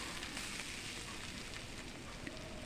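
Grated pumpkin goes into hot oil with spices, giving a steady, dense sizzle and crackle of frying that continues evenly throughout with no talking.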